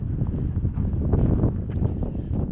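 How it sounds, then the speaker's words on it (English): Cold winter wind gusts outdoors on a street in a small town, a constant loud low rumble of air buffeting the microphone with no talking. "So it's a little bit windy today."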